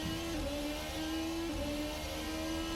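An IER P13c race car with an IndyCar engine drones at high revs, its engine pitch dipping and climbing twice through quick gear changes, loud and continuous.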